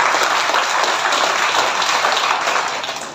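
Congregation applause at a church service fills the space as one continuous, dense wash of many clapping hands, loud and steady throughout, easing slightly at the end.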